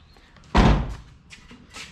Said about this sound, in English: Gas cap door.